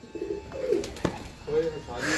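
Breeder pigeons, a male and his paired female, coo in low throaty rolls nearby while someone talks over them and a few sharp knocks sound in between.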